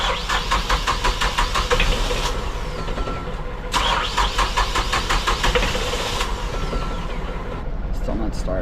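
A boat engine cranks and chugs repeatedly, catching briefly then dying, in two long attempts with a short pause between, loud and close.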